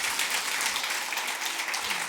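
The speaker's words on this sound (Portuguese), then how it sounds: "vamos recebê-los com uma salva de palmas" Church congregation giving a round of applause to welcome a visiting music group, dense, sustained clapping from many hands at a steady level throughout, with no voices on top.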